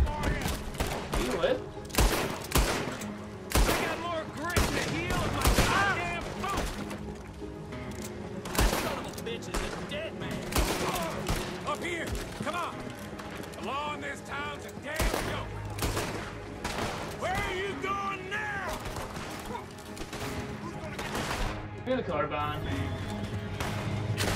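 Loud in-game gunfire from Red Dead Redemption 2, with repeated sharp shots and short volleys in an irregular rhythm. Someone talks over much of it.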